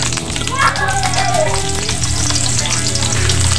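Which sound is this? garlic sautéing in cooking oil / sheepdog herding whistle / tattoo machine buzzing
garlic sautéing in cooking oil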